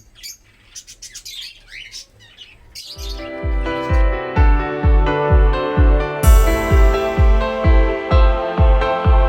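Caged lovebirds chirp in quick bursts early on. A loud, rhythmic mechanical thumping with ringing tones then takes over and mostly drowns the birds.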